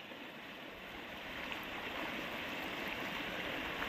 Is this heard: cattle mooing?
no